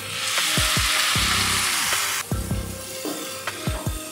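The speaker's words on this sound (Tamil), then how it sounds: "தக்காளி நல்லா மசிஞ்சு வர்ற வரைக்கும் வதங்கட்டும்" Four large chopped tomatoes fry with cashews in a pan for paneer butter masala. A loud, close sizzle drops sharply partway through, and the spoon clinks and scrapes against the pan as the mixture is stirred.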